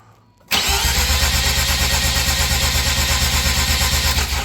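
A Mazda RX8 rotary engine cranks over on the starter during a compression test: a sudden start, then a steady, even, pulsing churn that stays loud and close until the end.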